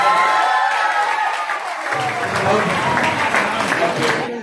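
Loud, steady applause from a crowd at a school teachers' debate event, sustained throughout with a dense patter of clapping.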